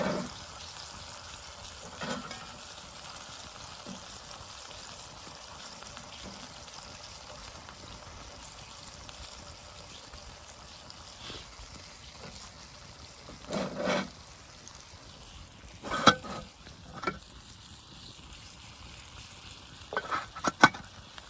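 Pork chops and potato sizzle quietly in a skillet at a campsite, a low continuous frying hiss broken by a few brief scraping and clinking stirs.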